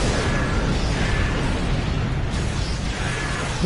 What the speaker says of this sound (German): Ich habe drauf geschossen, schon sind einige Schiffe explodiert.